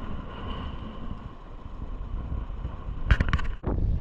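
Strong sea wind buffets a camera microphone on an ultralight fishing boat, a steady low roaring rumble, broken near the end by a brief cluster of sharp clacks.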